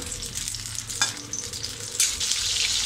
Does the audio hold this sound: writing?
no